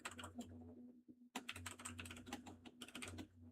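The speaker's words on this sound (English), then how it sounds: "I'm just typing names now" Rapid keystrokes on a computer keyboard as names are typed during an NBA quiz game, a dense clatter of clicks in bursts with a short pause, under a steady low hum.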